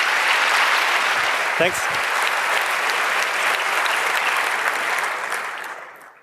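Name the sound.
warm applause for the speaker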